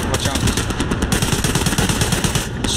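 Gunfire in the World War II game Hell Let Loose, a loud rapid machine-gun burst of evenly spaced shots running for nearly three seconds, with a voice faintly under it.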